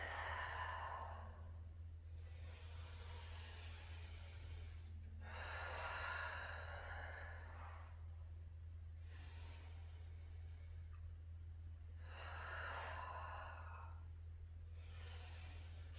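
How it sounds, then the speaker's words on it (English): Slow, deep breaths during a gentle yoga session, each long inhale or exhale a soft airy rush lasting a couple of seconds with quiet pauses between, repeated about five times over a steady low background hum. "Take about 5 more rounds of breath."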